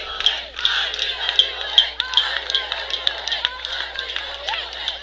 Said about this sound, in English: The Highland cheerleaders are saying, I believe that we will win